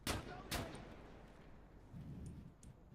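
Sniper rifle shots ring out in a first-person shooter game, two sharp loud cracks in quick succession that fade into a low rumbling battlefield ambience.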